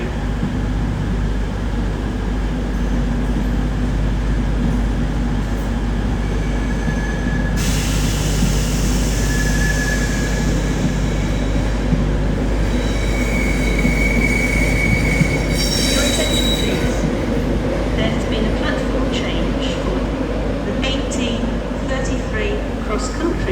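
An LNER Azuma train at a station rumbles steadily, with high wheel squeals rising and fading as it moves, while station announcements play over the noise.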